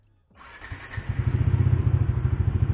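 A Bajaj Dominar 400 BS6 motorcycle engine idles steadily at close range after a brief cold start, with a rapid, even thumping pulse that holds loud and constant.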